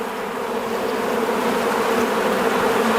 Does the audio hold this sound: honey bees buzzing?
yes